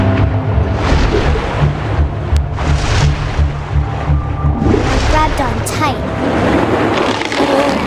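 Ocean waves wash and surge in What Remains of Edith Finch, a steady loud roar of surf and water under a narrating voice, with wind noise and low rumbling throughout.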